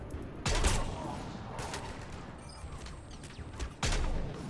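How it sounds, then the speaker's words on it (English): Gunfire in the Mass Effect 3 video game: a few loud, broad bursts of shots at the start and end, with a gap of quieter battle noise between them. "Will you stop shooting at me, you bastard?"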